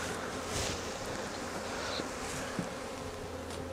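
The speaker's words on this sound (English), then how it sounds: "Maybe this is why the bees are unhappy." Honeybees drone steadily at an open hive during a colony split, a continuous, fairly faint buzzing swarm with occasional louder passes of individual bees near the listener.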